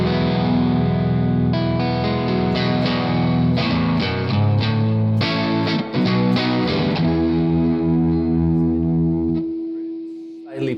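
A Maybach electric guitar runs through a Morgan AC20 amp with the pedal switched on and its blend turned fully off, playing ringing chords and single-note runs that sustain and slowly fade out.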